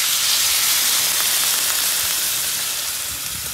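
Water is poured into a simmering fish and tomato curry with potatoes, giving a loud, steady hiss and sizzle that fades slightly toward the end.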